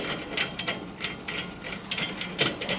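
Bolt being started on the lower suspension mount of a Mazda Spec MX-5 race car: quick ratcheting clicks in a steady series, close and moderately loud, with no talk.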